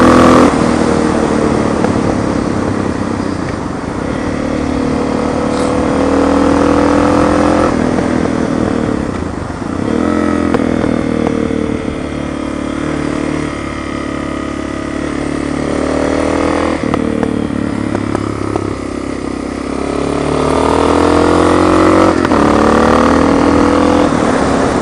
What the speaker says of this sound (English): This is a slow bike that I can drive fast.